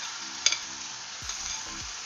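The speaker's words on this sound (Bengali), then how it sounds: "এবার এই যে মশলাগুলো আমি মাখিয়ে রেখেছি নুন হলুদ মাখানো মাছে, সেটাই আমি এখানে অ্যাড করব।" Spice paste of salt and turmeric going into a pan of small mourala fish frying in oil, a continuous close sizzle with a brief clink and soft stirring scrapes.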